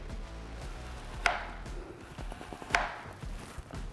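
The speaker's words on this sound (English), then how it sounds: "So you're basically just gonna come in and cut it super thin." A knife slices raw beef paper-thin on a board for a Philly cheese steak wrap, giving two sharp chopping knocks about a second and a half apart over faint background noise, with no talking.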